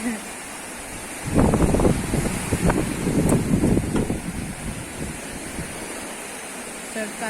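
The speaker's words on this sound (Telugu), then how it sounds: "ఈరోజు ఎందుకో తెలీదు బాగా కెరటాలు అనేది వస్తున్నాయి" Big ocean waves on a Kuwait beach roll in with a broad rushing surge that swells for a few seconds, then fades back into steady wind-like surf noise.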